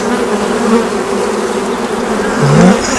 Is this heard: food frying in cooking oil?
no